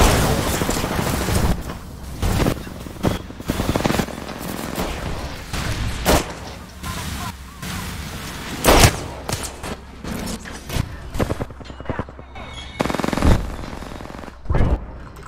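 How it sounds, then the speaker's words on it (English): Video game gunfire in a battle royale match: rapid, loud automatic bursts and single shots in irregular volleys, with booming hits, dense and close throughout. "Someone's getting hurt by fire pretty good."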